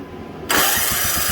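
A Simplicity 560 snowblower engine is pull-started and catches abruptly, going straight into a loud, steady, close-up mechanical roar after a short quiet moment.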